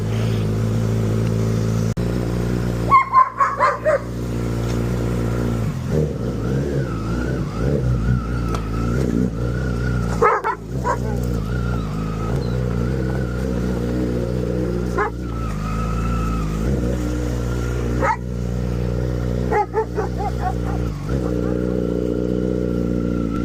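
Motorcycles are ridden back into a showroom, their engines idling and revving in short bursts with rising and falling tones and brief throttle blips, fairly close and loud against a steady engine drone.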